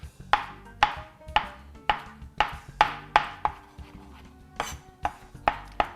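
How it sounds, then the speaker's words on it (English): A large kitchen knife chops through a bunched handful of fresh herbs for pico de gallo on a cutting board, roughly a dozen crisp, evenly spaced thuds landing close by with no voices. "Usually chop one way, then I go the other direction."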